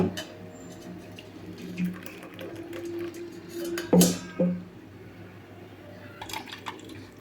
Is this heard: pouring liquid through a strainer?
yes